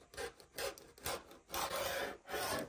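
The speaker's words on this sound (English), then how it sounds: "I am going to cut off 1 inch because down here is not even." A sharp rotary blade slices through quilting fabric along a ruler, a run of rough rasping strokes in several bursts, close and fairly quiet, with no voices.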